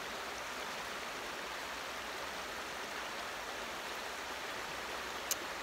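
A river flows steadily in an outdoor setting, a constant broadband rush of water with no talk, holding even throughout.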